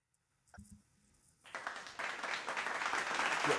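A small audience breaks into applause after a quiet pause, the clapping starting softly, then swelling into steady, dense, fairly close clapping that lasts to the end.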